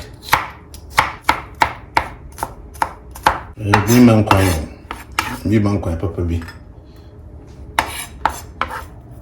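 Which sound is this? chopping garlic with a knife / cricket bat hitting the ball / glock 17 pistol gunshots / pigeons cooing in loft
chopping garlic with a knife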